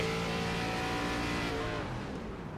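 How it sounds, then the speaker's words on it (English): Race car engines in the Sundance Pro Series at Iowa roar steadily, then the drone eases off as drivers lift and shut off into turn 1, fading toward the end. "I hear some cars shutting off, actually, into turn 1."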